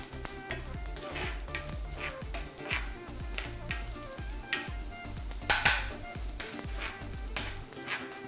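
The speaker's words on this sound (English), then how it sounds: "So fry it for about maybe 20 to 30 seconds." Garlic fries in a pan for a vegan sausage stroganoff, a steady close sizzle broken by regular scraping stirs, with no talking over it.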